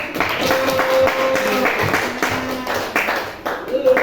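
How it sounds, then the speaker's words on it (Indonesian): A school class applauds a lesson, with a burst of close hand clapping, fairly loud and uneven, carrying on for a few seconds under a busy room. "Tepuk tangan untuk kelas 2"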